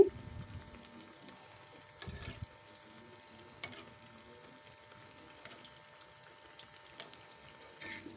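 Jute leaf fritters frying in oil in a pan as they are flipped, a soft faint sizzle with a few light scraping clatters, quiet and close.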